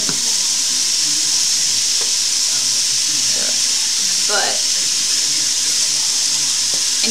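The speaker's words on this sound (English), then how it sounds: "And now we have to just add some oil." Oil sizzling and frying in a pan while doro wet is being cooked, with a steady hiss throughout and a few faint clinks of stirring near the middle.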